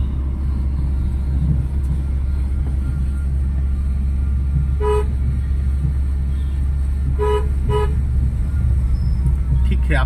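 A car horn honks in short bursts, a single toot then a quick double honk, over loud steady road and engine noise.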